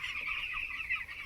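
Broiler chickens in a 3500-bird poultry farm flock cluck and chatter continuously, a dense, steady chorus of many birds filling the shed at moderate volume.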